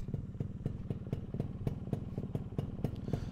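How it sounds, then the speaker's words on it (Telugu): Yamaha RX-135 two-stroke motorcycles idling on a foggy morning, a rapid, steady pop-pop engine beat with regular sharp pulses and clatter, close and continuous with no voices. "బైక్స్ అయితే స్టార్ట్ చేస్తాం, చూపిస్తాం చూడండి"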